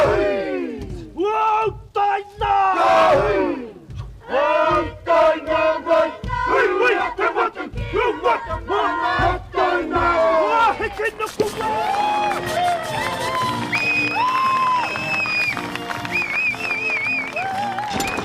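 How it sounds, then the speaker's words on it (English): Maori dancers and a large crowd greet an Italian sailor in Auckland at 3 a.m., loud rhythmic chanted shouts and bellows in unison, then a crowd cheering and whistling. "At 3 in the morning, Maori dancers and a large crowd welcome the Italian sailor."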